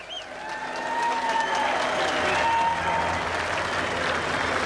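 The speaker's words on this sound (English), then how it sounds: "how about a big round of applause for our overseas drivers?" A crowd applauds for the overseas drivers at the 1982 Bathurst motor race, a steady wash of distant clapping with faint crowd noise underneath.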